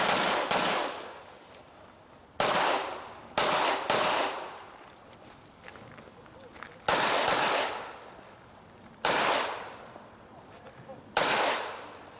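Pistol gunshots from a shooter running an IDPA stage, several loud sharp reports in irregular bursts with short gaps between them, heard from a short distance over faint outdoor background.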